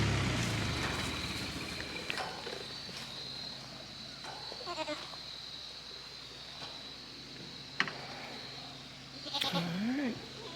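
A goat lets out a few short, wavering bleats at intervals against a quiet outdoor background with insects chirping.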